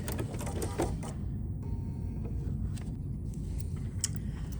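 A sewing machine reverses to backstitch a seam while a bag is made, its quiet mechanical whirring and clicks continuing throughout, close up, with no talk.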